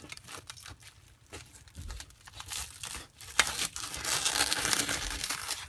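Knife sawing through a cheesy pizza bread bowl, giving a steady crackly, crunchy scraping that swells louder and denser in the second half, heard close with no voices.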